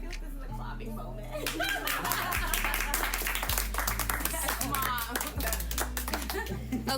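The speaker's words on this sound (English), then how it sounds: "I feel like this is a clapping moment." Clapping from a small group on a talk show, crisp overlapping hand claps rising after a moment of talk and continuing steadily, with voices and a low steady hum underneath.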